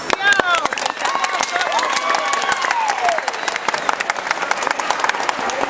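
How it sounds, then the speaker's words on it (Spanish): An audience at a government food-ration handout event applauds an official, a busy crowd clapping with sharp individual claps on top while a voice speaks through a loudspeaker over the noise. "Un aplauso para el licenciado."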